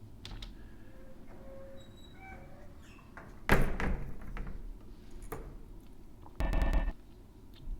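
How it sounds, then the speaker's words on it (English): A lab door hisses open in two loud, broadband bursts, the first the longer and stronger. A low rumbling drone and faint electronic tones sit underneath. "The door hisses open."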